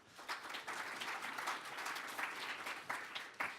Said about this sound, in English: So, an applause, please,